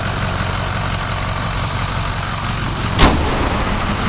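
A 2007 Ford F-250 Lariat with a 6.0 diesel engine idling close by, a steady loud clattering rumble broken by one brief sharp click near the end.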